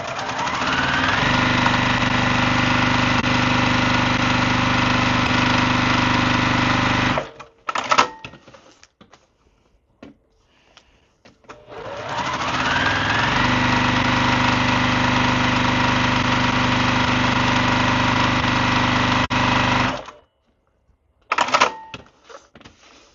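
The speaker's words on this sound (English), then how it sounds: "we're going to just sew down all of the dotted lines on all of these sides" Sewing machine with a size 90/14 needle stitches patchwork pieces for an hourglass quilt block, two long fast steady runs of motor whir and needle clatter, each followed by brief pauses and handling clicks.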